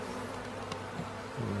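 A steady, dense buzz of honey bees around hives, continuous through the short moment with a slight swell near the end.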